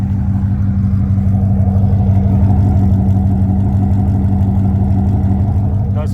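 A 2000 Chevrolet Corvette with an LS1 V8 and headers runs with a loud, close, steady low rumble that holds an even level throughout, without distinct rises in revs.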